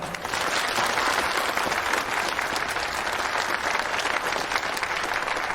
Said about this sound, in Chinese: 看来掌声不够热烈啊！